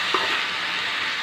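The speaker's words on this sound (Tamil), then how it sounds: "இந்த மாதிரி இடையிட கிளறி விடணும்" A vegetable side dish sizzles steadily in a pan during a brief stir. The hiss is close and even, with one small clink near the start.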